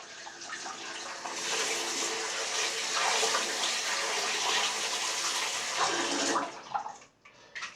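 A cashmere shaving brush rinsed under a running tap: a steady close rush of flowing water for about six seconds, then splashes and drips as the flow stops.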